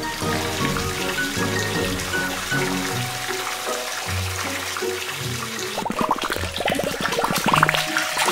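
A toy dumper truck is splashed and rinsed in water, with trickling, dripping and sloshing sounds that turn busier and more splashy toward the end over soft background music.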